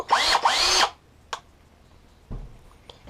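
A power drill with a 1/2-inch bit whirs in two short, close, loud bursts that rise and fall in pitch, followed by a sharp click and a faint thump.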